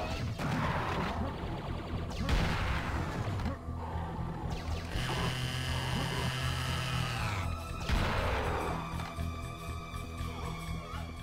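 Weapons fire in the shooter game Serious Sam, with sharp crashing shots and impacts running through the whole stretch amid layered game effects and music, loud and dense, with no voices.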